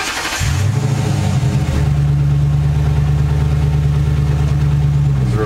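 A car fitted with a CVT cranks briefly and catches, then settles into a smooth, steady idle that continues close and fairly loud to the end.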